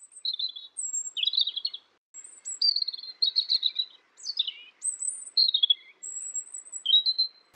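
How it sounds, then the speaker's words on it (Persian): A sparrow chirps in a steady run of bright, high, clear notes, repeated in short phrases with brief gaps, close and alone against silence. "و تصویر این گنجشک صداش این هست."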